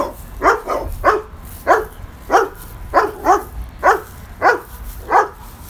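Dogs bark in a steady repeated series, about a dozen loud, close barks spaced roughly half a second apart, with no talking over them.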